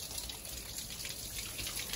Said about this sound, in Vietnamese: Trời có sấm sét mưa rồi anh em ơi.